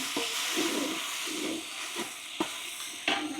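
A ground paste of peanut, coconut, green chili and cumin hits a frying pan of pachon, giving a loud hissing sizzle with steam, broken by a few sharp scraping stirs toward the end.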